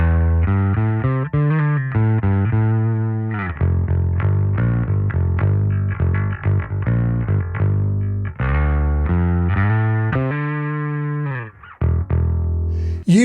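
Bass guitar through a Darkglass rig, with a gritty overdriven edge blended at about 40% into its clean low tone, playing a steady riff of sustained notes with brief pauses, loud and close.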